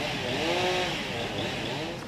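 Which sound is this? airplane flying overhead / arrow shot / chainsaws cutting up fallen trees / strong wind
chainsaws cutting up fallen trees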